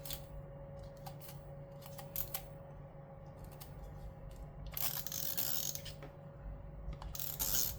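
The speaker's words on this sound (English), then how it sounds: "So, I have this cheap tape runner, you guys." A cheap tape runner laying adhesive onto paper for pieces to be laminated together, giving repeated short ratcheting clicks and a longer rough scraping rasp near the end, close and quiet over a steady background hum.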